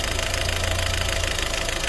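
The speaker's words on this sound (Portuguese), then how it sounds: "conforme o motor vai trepidando, ele vai partindo o fio" A Siena engine fitted with a CNG kit idles roughly, shaking with a fast, uneven knocking rumble that stays loud and close for the whole moment, with no voices.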